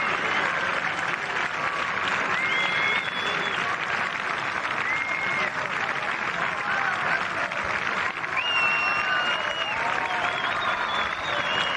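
Crowd applause and cheering at a professional golf tournament's final round, a dense, loud wall of clapping with shouts and whistles rising through it, sustained for the full stretch.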